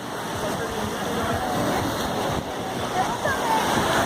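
Sea water at Praia da Tartaruga beach in Búzios, a steady broad wash of gentle surf and splashing heard from nearby, continuous without clear breaks.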